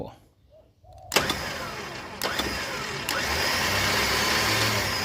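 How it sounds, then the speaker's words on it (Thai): After a quiet moment and a few clicks, an electric front winch motor on an off-road vehicle whirs up and runs steadily with a mechanical drone, close by. "สังเกตฟังเสียงวินมีอะไรผิดปกติหรือเปล่านะครับ"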